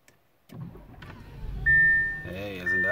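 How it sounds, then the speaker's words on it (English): A 2014 Audi A6 starts up: a brief starter crank and engine catch, then a steady idle with a sustained electronic chime tone over it, faint and close inside the cabin. "Watch what happens now when I start the car."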